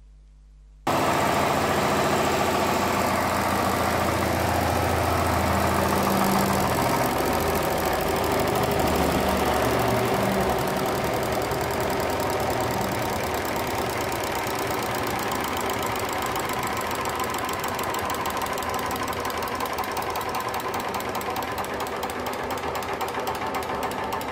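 A diesel engine on a load test rig runs steadily and loudly, with a rapid knocking clatter that holds constant throughout after it starts up.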